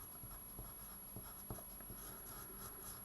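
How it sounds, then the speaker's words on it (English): Pen scratching across paper in quiet, soft irregular strokes with a few light taps, close and faint, no talking. "So I write down a title point"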